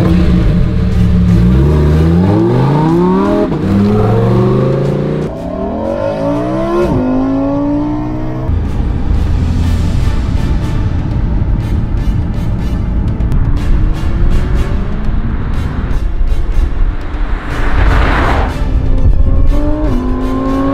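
A car pulls away and accelerates hard, engine pitch climbing repeatedly through gear changes, then settling into a steady loud drive with further revving and a rising whoosh near the end; close and continuous, no talk.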